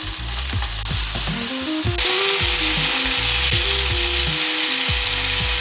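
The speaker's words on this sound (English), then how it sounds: "We increase the flame a bit more and we toast each side." Zucchini toasting in a pan over a raised flame: a loud, steady sizzle and fry that swells louder partway through, with rhythmic low thumps from handling the pan.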